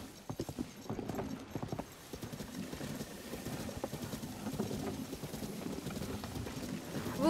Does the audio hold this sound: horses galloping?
yes